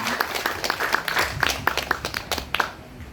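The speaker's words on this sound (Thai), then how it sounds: "ขอเสียงปรบมือให้น้องฝนด้วยค่ะ" Scattered hand claps from a small audience at a village committee meeting, about a dozen distinct claps over three seconds before tapering off.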